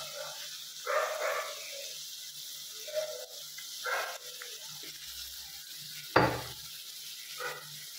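A spoonful of soy sauce going into a hot pan over a high flame, heard as scattered scraping and sizzling bursts, with one sharp, loud hiss near the end.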